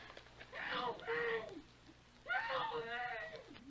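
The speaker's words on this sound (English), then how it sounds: "A woman was buried under the junk and dirt and glass, and she was screaming all wild and horrible for somebody to dig her out" A woman's wild, horrible screaming rises in two long wailing bursts in an audio drama, muffled as if coming from beneath junk, dirt and glass.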